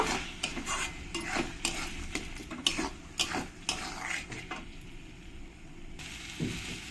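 Ground coriander, Kashmiri chili and cumin powders being mixed in a pan: a spoon scrapes and taps against the metal in quick, uneven strokes over a faint sizzle, fairly quiet and close, with no talking.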